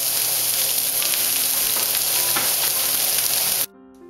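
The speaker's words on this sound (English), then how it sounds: "Alright, we're going to first cook the onions." Onions fry in coconut oil with a steady, loud, dense sizzle that holds for more than three seconds and then cuts off abruptly, leaving quiet room tone.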